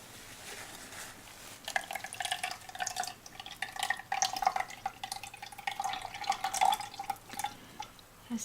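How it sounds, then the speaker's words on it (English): Homemade coconut milk straining through a small strainer, soft irregular dripping and trickling that grows busier after a quiet start, faint and close. "now I'm just gonna strain whatever particles are in there through this little strainer"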